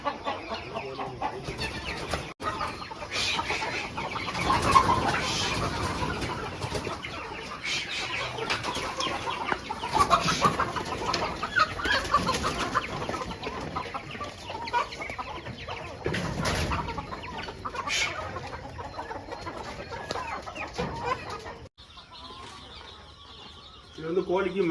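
Country chickens cluck at a poultry farm near Mecheri, Salem, with scattered bird calls and farm noise throughout, while someone talks over them for most of the time.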